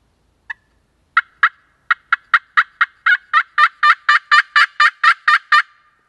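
A Buck Expert Tough Grip slate friction turkey call produces a series of sharp, high-pitched yelps, starting sparse and building into a steady, loud rhythmic run of about twenty notes.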